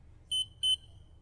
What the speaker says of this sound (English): If you don't apply enough blood to the test strip on the first try, the meter will beep twice